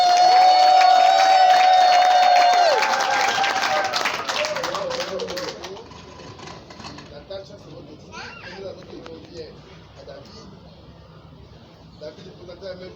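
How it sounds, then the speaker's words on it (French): Wedding guests at a civil marriage ceremony applaud loudly with cheers and children's voices, then the clapping fades after a few seconds and speech continues over a quieter room. "Oui, applaudissez!"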